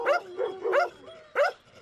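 Street dogs barking in a Turkish neighbourhood where strays are numerous: three loud, close barks spaced apart, with a faint whine running between them and no voices.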